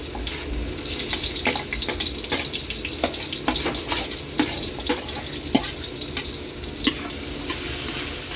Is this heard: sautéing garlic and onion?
yes